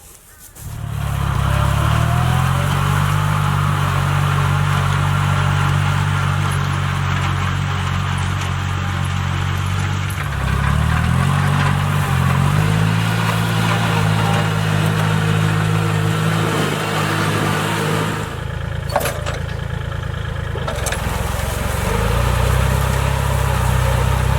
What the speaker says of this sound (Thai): ด้วยอุปกรณ์ของเรา ก็คือรถไถคู่ใจนะครับ